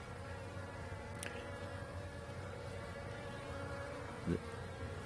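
Honey bees buzzing around two hives in Middle Tennessee, a soft, continuous insect drone close by with a faint tick and a small thump.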